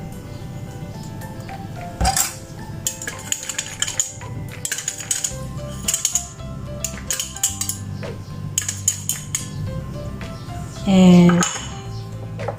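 Clinking spoon or whisk strokes against a bowl as chicken wing batter of cornstarch, flour and water is mixed, a steady run of light scraping taps with a brief voice at the start and a low hum behind.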